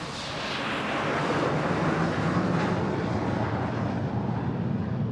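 A USAF U-2 reconnaissance aircraft roars past on a low approach at an air show, its broad jet rumble swelling quickly and then holding loud and steady throughout.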